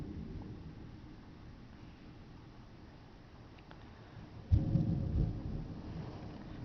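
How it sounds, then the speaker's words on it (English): Rain falls steadily through a severe thunderstorm, with a hushed wash of drops broken near the end by a sudden, close, rumbling thunderclap that rolls on loudly. "Oh, rain's starting to come down harder."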